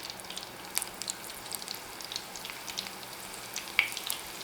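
Green chilies hit hot oil while a mutton nihari is cooked, giving a soft, steady sizzle and crackle with a few sharper pops, fairly quiet and unbroken throughout.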